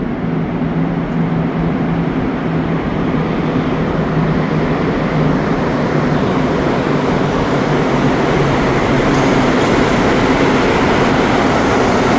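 An MR73 metro train rumbles loudly and steadily through a Montreal Blue Line station, a dense continuous roar of wheels and motors with a faint tonal whine underneath.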